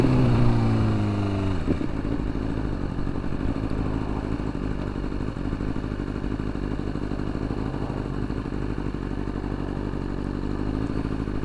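A motorcycle ridden in freezing winter weather, heated grips switched on, produces a steady engine drone with wind rumble. Near the start, rising engine tones shift as the rider changes speed, then the drone settles into a constant cruise.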